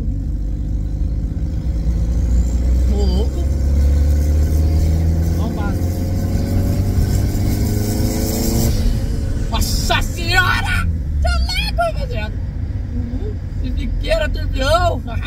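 A Honda Civic turbo accelerates hard, engine pitch climbing through several rising sweeps before sharper, broken bursts follow, loud and close under excited talk.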